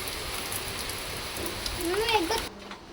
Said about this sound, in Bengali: নাও কি বৃষ্টি হলো, আবার থেমে গেল